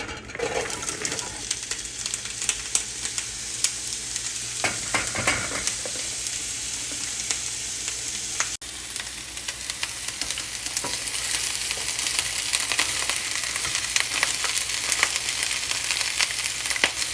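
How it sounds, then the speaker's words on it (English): Chopped peppers and onions fry in oil in a pan for fajitas, a continuous close sizzle with spoon stirring and scraping early on, then a steadier, louder hiss, no voices. "I stirred those up as good as I can."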